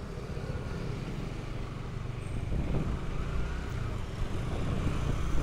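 A Honda motorcycle engine with a cam chain tensioner fault running steadily with a rough, low rattling, knocking rumble that grows slightly louder toward the end.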